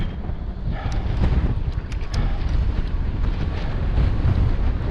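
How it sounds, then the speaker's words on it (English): Strong wind rushes over a mountain slope, buffeting the microphone in a continuous roar with gusty surges, loud and close throughout. "Come on, wind!"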